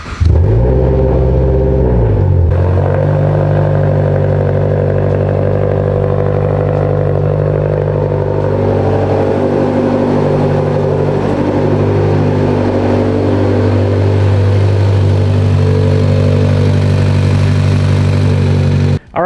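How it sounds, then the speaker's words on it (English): Stock-motor Mitsubishi Evo engine cranking briefly, then firing up and settling into a loud, steady idle with a deep rumble, close by and without talk. "the car started up and runs well"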